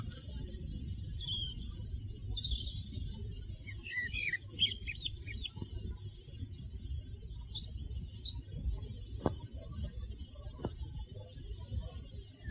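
Small bird chirps in a few short, bright bursts of tweeting over a low indoor rumble, with scattered clicks and knocks and no talking.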